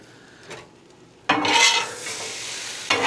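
Home fries seasoned with garlic and onion powder hit a hot frying pan with a sudden loud sizzle, then a spatula stirs and scrapes through them amid steady crackling, up close with no talking.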